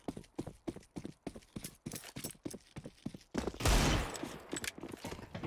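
Pistol shots ring out in a Counter-Strike match on the map Nuke: a rapid series of sharp, distinct cracks in an uneven rhythm, with a brief louder burst partway through, heard cleanly with no talking over them.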